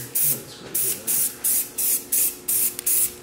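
Gray paint sprayed onto a hatchback car body over primer in a garage: eight evenly spaced hissing bursts, each about a quarter second long, loud and close with short gaps between them.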